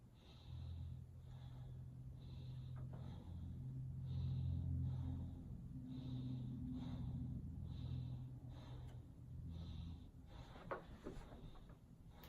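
A patient taking slow, deep breaths during a back examination, a soft rhythmic series of airy inhales and exhales heard close and quiet over a low rumbling background, with no talking.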